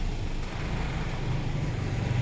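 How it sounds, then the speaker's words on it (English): A loud, steady rumble of a truck passing close by on a road in Vietnam, with deep low-frequency engine noise filling the whole moment. "that truck's loud."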